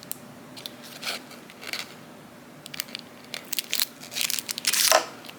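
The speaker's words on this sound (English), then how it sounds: "these adorable pink scissors, and they're in a plastic case" Pink curved scissors in a plastic case are handled, giving scattered crinkly plastic crackles and snips that build into denser bursts toward the end, close and fairly loud.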